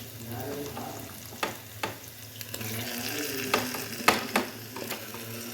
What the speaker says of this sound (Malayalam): നല്ലതുപോലെ ഒന്ന് ഇളക്കി കൊടുക്കാം